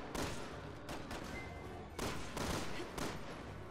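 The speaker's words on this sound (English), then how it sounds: "they're artillery, so they are hitting the roof now" Artillery shells pound a rooftop in the video game Resident Evil 6, heavy booming impacts landing in rapid bursts of several hits, loud and close, with no talk over them.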